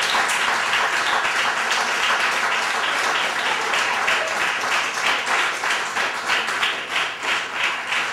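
Dense, sustained audience applause after a poetry reading at a branch library, loud and continuous with rhythmic clapping surging near the end.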